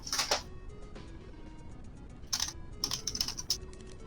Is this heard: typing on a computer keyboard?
yes